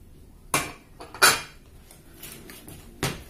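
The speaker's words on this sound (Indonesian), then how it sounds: "Aduk sampai rata gitu ya, aja supaya si terigunya tercampur merata gitu" Banana nugget batter with flour being stirred in a bowl, heard as a few sharp clinks and scrapes of a utensil against the bowl, spaced irregularly and fairly close, with no talking.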